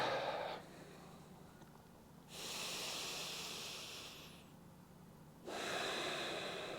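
Slow, deep breaths during a yoga session: a breath out, then a long inhale, then another rising inhale, each a soft airy hiss with quiet gaps between.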